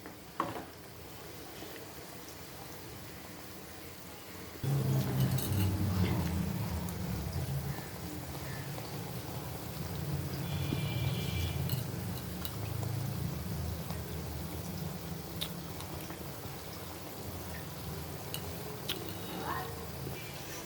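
Bengali fish curry simmering in a pot, a continuous soft bubbling and popping like light rain that grows fuller after a few seconds and carries on steadily, with occasional faint clinks.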